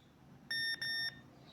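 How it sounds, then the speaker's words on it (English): Two short, bright electronic hourly beeps in quick succession from a Game Boy converted into a Casio F-91W style desk clock, clear and close against a faint background hiss. "it gives off two short beeps"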